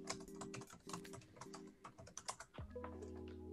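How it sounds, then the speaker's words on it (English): Rapid typing on a computer keyboard during a Linux access-control lab, a steady run of close, quiet key clicks over a low hum, ending in a brief shift of background tone. "Hit the up arrow on your keyboard."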